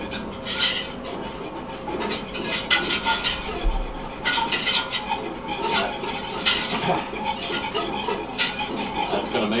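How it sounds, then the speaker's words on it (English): A utensil stirs flour and fat into a roux in a pot, giving continuous scraping and rubbing strokes with rhythmic metallic clinks against the pan, loud and close, with no voices. "Stir that up."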